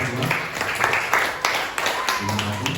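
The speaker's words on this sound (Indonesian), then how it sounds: "Tepuk tangan." Scattered clapping from a group in a classroom or training session, uneven bursts of hand claps that rise and fall over a few seconds, with voices talking over it.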